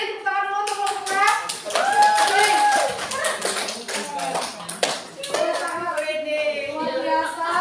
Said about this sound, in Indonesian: Boleh berdiri, tepuk tangan dulu untuk kelompok 6.